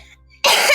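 A single sharp, close cough bursts out after a short quiet pause.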